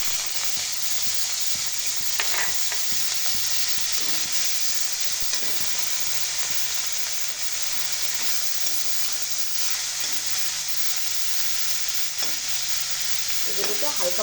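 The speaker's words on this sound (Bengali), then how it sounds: "এখন আমি ইলিশ ড্রাই ফিশগুলি ভেজে তুলে নিয়েছি।" Dried hilsa fish frying in oil in a wok, a steady close sizzle running the full length with faint stirring scrapes and no talk.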